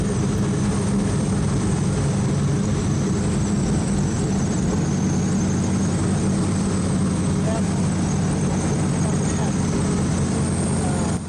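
A warbird trainer airplane glides with the power pulled back for practice engine failure, its low engine drone and wind noise steady and continuous throughout.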